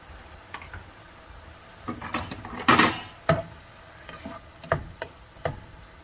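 A spoon scrapes and knocks against a pot while jackfruit curry with turmeric, salt and tamarind sauce is stirred, giving a few scattered clinks and one louder scrape, close by and quiet, with no talking.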